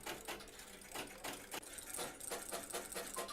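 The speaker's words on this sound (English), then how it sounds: "Oh, it's Now typing. that's being printed out on the printer." A printer prints out typed text in rapid, rhythmic mechanical bursts of clattering strikes, faint and steady with no talk over it.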